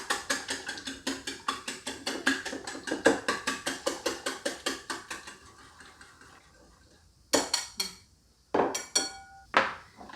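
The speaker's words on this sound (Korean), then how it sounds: "이 거품기로 이렇게 풀어주세요." Eggs beaten with a whisk in a bowl for potato croquette batter: a fast, steady run of clinking metal strokes against the bowl that slows and fades, then a few louder separate knocks and taps, with no one speaking.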